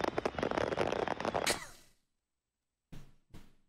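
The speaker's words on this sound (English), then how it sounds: "A truck full of fireworks crashed on the highway" Dense, rapid crackling bursts from a crashed truckload of fireworks going off at once on a highway, fading out, then two sharp separate pops after a short silence.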